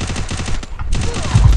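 Rapid bursts of automatic gunfire from a mobile shooting video game, loud and repeated in quick rhythmic volleys, with heavier booming shots near the end.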